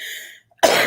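A single sharp cough bursts out close and loud just after a short pause, following a brief trailing vocal sound.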